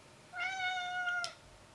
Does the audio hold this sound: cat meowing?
yes